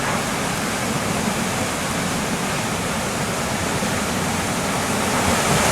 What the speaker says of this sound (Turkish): Genç Şelalesi'ne çıkan su burada denize dökülüyor.